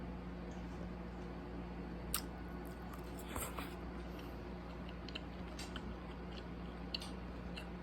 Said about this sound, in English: now I am going to eat the seafood pancake